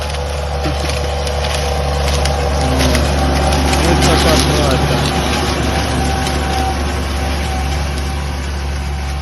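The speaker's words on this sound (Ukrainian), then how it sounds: "Трактор ходить зі швидкістю 17 км на годину, 15-17, не більше." A loud wheeled tractor engine runs close by with a constant heavy drone and a slight swell in the middle.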